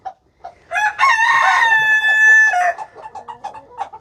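Silkie chickens cluck and call nearby, with one bird letting out a long, loud, drawn-out crow-like squawk in the middle before softer clucks resume.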